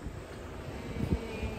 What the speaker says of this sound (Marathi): डॅम मधनं विमान चाललंय वर ना.